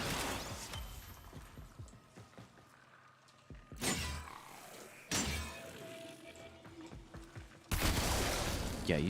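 Gunfire in Warframe as a player shoots an object: a few separate sharp blasts with shattering, metallic bursts spaced several seconds apart, quieter mechanical game sounds between them.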